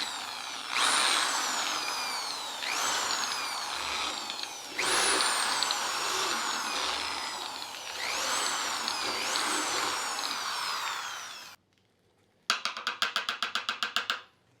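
A power drill whines in several long bursts with rising and falling pitch, then a short pause and a rapid stuttering buzz at the end.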